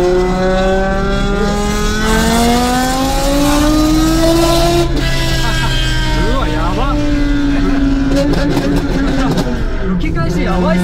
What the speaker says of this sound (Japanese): 吹き返しやばいっすね。